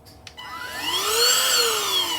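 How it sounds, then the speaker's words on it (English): A small cordless desk vacuum cleaner whirs steadily after a brief click, its motor pitch rising and holding close and loud for about two seconds with no talk over it. "this is my handy dandy little vacuum"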